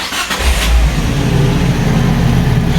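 Car engine running loud and close after a timing belt change, a steady low rumble with a brief rev near the start and no talking.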